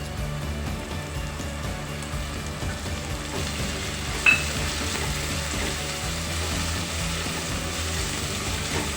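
A small chopped tomato tossed into onions fried until brown, in a pan of cauliflower-potato curry. It gives a steady, close oil sizzle throughout, with one brief sharp clatter midway and no talking.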